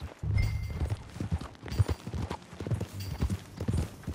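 Horse hooves clip-clop in a rhythmic trot while riding in Red Dead Redemption 2, close and fairly loud, with faint game ambience behind them.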